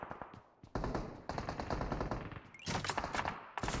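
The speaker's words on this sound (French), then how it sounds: "Ça tire de partout, j'adore." Dense automatic and single gunfire from PUBG Mobile, a battle royale shooter, rattles in overlapping bursts for the whole stretch, loud and continuous with sharper volleys near the end and no talking.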